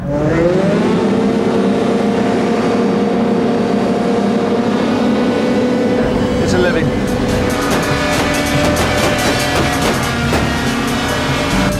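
A loud, steady hovercraft engine roar from the Die Another Day hovercraft display, with a droning, buzzing tone throughout, fan-like whine on top and someone speaking briefly over it.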